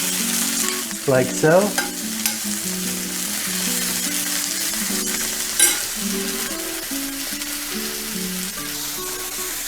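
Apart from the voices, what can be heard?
sliced shallots and mushrooms frying and being mixed in pan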